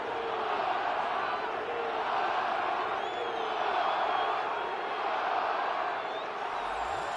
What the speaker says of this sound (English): several thousand 12th men and women cheering as the Seahawks win at home